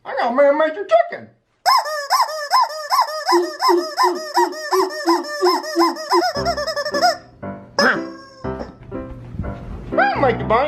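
A squeaky rubber toy chicken is squeezed repeatedly, letting out a fast series of loud honking squeals with a short break, then scattered squeaks between bursts of a person talking.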